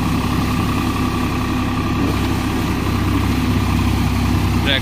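A Swaraj 744 tractor fitted with a rotavator idles in light drizzle. The diesel engine gives a steady, close, continuous low rumble throughout, and no one speaks.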